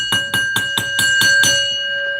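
A ringside bell clangs rapidly about seven times to end a wrestling match, loud and close, the last strike ringing out as the clanging stops.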